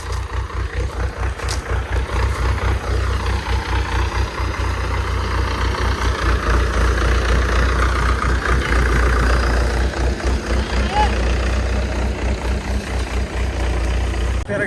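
A truck engine idles loudly and close at a sugarcane harvest field, a steady low rumble with a rapid, even throb throughout.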